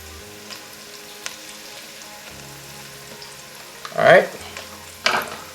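Shrimp sizzle with a tablespoon of curry powder in a pan for Jamaican curried shrimp, a low steady hiss broken by two loud stirring scrapes near the end, and a brief spoken word early on.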